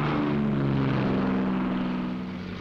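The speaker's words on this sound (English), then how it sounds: "the P-38s get underway." Lockheed P-38 fighter planes getting underway, their piston propeller engines giving a loud, steady droning roar with a low hum that holds throughout and fades slightly at the end.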